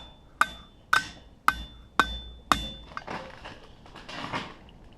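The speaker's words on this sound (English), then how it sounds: "And just start tapping it down over the side of the anvil." A blacksmith's hammer taps hot steel down over the side of an anvil while forging a heart shape: five sharp, evenly spaced metallic strikes, close and loud, followed by softer scraping and handling noises.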